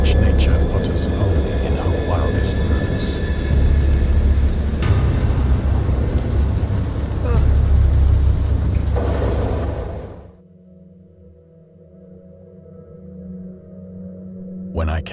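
Thunder and heavy rain in a narrative horror game, a loud rolling storm with low rumbles and rain hiss that cuts off abruptly after about ten seconds into near quiet, with someone narrating over it.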